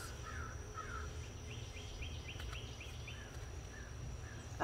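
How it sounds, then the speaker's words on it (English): Crows cawing in a garden, a run of short harsh caws in quick succession at a moderate distance, over faint steady background hum and insect-like buzz, no talking. "You can hear the crows."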